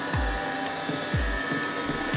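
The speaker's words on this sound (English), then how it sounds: "Sorry, that's my printer." A home printer running nearby, a steady mechanical whir with a few repeated low thumps as the paper feed cycles, fairly loud and without speech.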